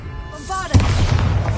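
A Bombarda blasting spell from the video game Hogwarts Legacy goes off, a short magical whoosh leading into a loud booming explosion that rumbles on for about a second.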